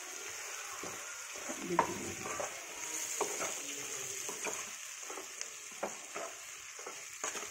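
Fenugreek, fennel and mustard-seed masala fry quietly with coriander in a pan for a green chilli fry, giving a soft, continuous sizzle with scattered light scrapes and ticks from stirring.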